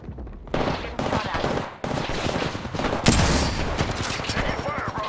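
Rapid bursts of automatic gunfire and sharp single shots in Apex Legends, loud and close in clustered volleys across a few seconds, with a voice briefly talking underneath.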